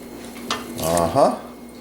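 A metal pot fork clinks and scrapes against a cooking pot while pork is checked, a few brief close metallic taps and a short ringing scrape, with faint room noise around it.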